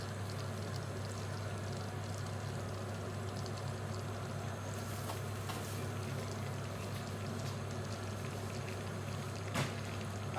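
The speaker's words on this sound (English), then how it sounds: "You want a little sizzle." Salmon laid into melted butter in a warm pan gives a steady, even sizzle and crackle throughout, close and continuous with a low hum underneath and a couple of faint clicks near the end.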